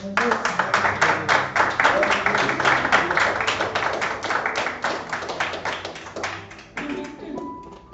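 A church congregation claps together in a steady rhythmic beat during a worship service, loud and close, with voices singing or calling out underneath before the clapping thins out near the end.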